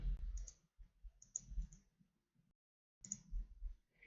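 Sharp computer mouse clicks during right-clicking in 3D rendering software, arriving in short clusters of bright ticks with quiet gaps between, close and fairly faint against a low background rumble.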